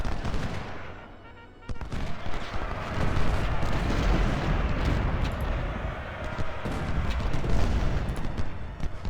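Artillery booms and crackling musket volleys in Ultimate General: Civil War, a continuous roar of battle fire after a quieter opening, with sharp shots rising out of the din.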